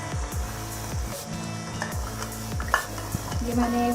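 Garlic and ginger paste fries in a pan for chicken biryani, giving a continuous sizzle under rhythmic metal scraping as it is stirred, with a few utensil clinks near the end. No one speaks.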